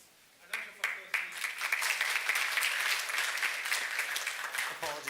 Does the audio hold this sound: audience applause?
yes